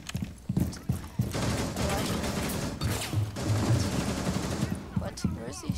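Gunfire in Rainbow Six Siege, with a sustained crackling stretch of shots and mechanical clatter between scattered sharp impacts and footstep-like thumps, heard at moderate distance with no clear voices.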